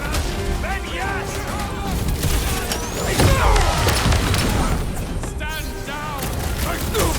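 Dense, continuous gunfire and booming explosions from a firefight in the video game Guardians of the Galaxy, loud and close throughout, with shouted voices over the combat.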